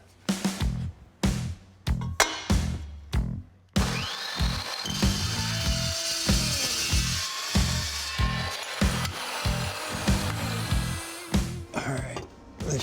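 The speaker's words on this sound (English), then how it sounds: "we'll head over to the chop saw, take about 4 or 5 inches out of it" Chop saw cutting a length of exhaust pipe for a Chevy Silverado 5.3L LS build, several short bursts of the motor, then a long sustained grinding whine as the blade bites through metal, ending in brief bursts.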